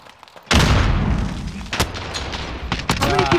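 Frag grenade exploding in the Warzone video game: a sudden loud boom that rolls into sustained rumbling and crackle, followed by further sharp bursts.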